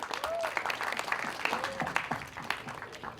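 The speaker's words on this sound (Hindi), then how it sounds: "भूषण जी को एक बार जोरदार ताली चाहिए" Audience applause at a Bollywood film teaser launch event honoring producer Bhushan Kumar, quiet and somewhat distant clapping lasting a few seconds, with voices and faint whistles mixed in.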